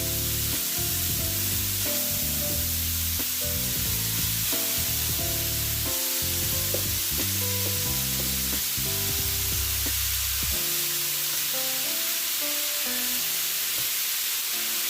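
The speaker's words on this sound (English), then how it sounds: "I really want to try to get a nice brown on my meat before I add in my peppers and onions" Beef browning in a non-stick pan gives a constant close sizzle and hiss, steady and loud throughout with faint tonal music underneath and no talking.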